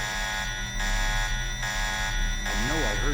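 In the video game Deus Ex, an alarm blares in a steady pulsing buzz, repeating on and off about every second, with someone talking over it.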